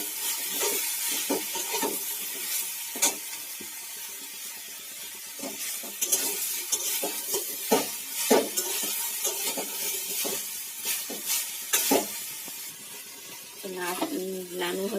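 Drumstick (moringa) pieces, potato and onion frying in a pan while being stirred, with steady sizzling and repeated scraping stir strokes throughout, close and fairly loud, and a brief voice near the end.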